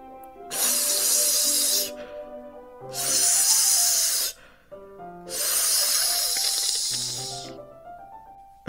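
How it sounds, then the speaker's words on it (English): A sharp hissing inhale sucked through clenched teeth in the horror visual novel Doki Doki Literature Club, repeated three times in long, loud bursts with brief pauses, over low background music. "A sharp inhale, like someone is sucking the air through their teeth."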